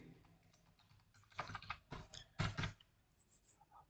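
Quiet typing on a computer keyboard while entering a date into Tally accounting software, a few soft scattered keystrokes building to a short cluster of louder taps, then fading out; no talk.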